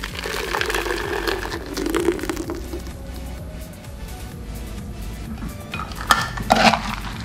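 Blended soybean mixture for homemade yellow tofu being poured from a blender into a pot, giving a steady wet gush with clinks of cookware and a couple of louder knocks near the end, close by.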